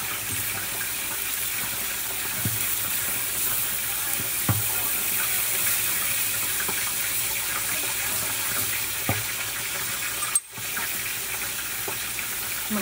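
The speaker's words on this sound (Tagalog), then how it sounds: "Maglagay tayo ng kaunting water para pangsabaw." Water streams steadily into a cooking pot to make broth for a sardine and oyster-sauce dish, a continuous close hiss and splash with a few faint clinks, and no voices.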